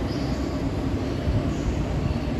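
A track inspection car runs on the railway at Seoul Station, giving a steady, loud low rumble of wheels and machinery with no pauses and no voices.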